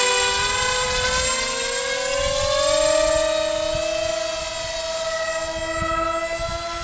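A twin-prop foam RC MiG-29 plane flies overhead with a steady, buzzing electric motor and propeller whine whose pitch slowly drifts and wavers as it passes, loud and continuous with no talk.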